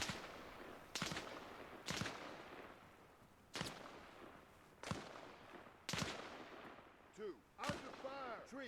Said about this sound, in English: Under fire. Tree, I'm taking fire. Taking fire.